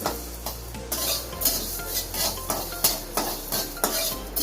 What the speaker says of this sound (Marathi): तर अगोदर मी धने भाजून घेणार आहे।